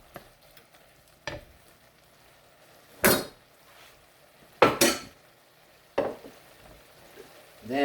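A utensil stirs egg, shrimp and chicken together in a hot pan, landing in several separate loud scrapes and knocks against the metal over a faint background sizzle.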